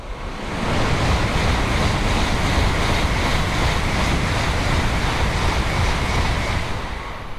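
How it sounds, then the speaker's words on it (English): An N700S Shinkansen bullet train rushes past Odawara Station, a loud, steady roar of air and rolling noise that swells in within the first second and holds for several seconds before easing slightly at the end. "This N700S rockets by Odawara Station."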